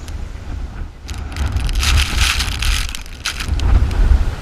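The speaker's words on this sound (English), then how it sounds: "the wind is blowing crazy" Strong gusty wind buffets an outdoor microphone with steady low rumble, swelling into louder roaring gusts around the middle and again near the end, with no voices present.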